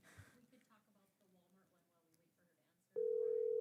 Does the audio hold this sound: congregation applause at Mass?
no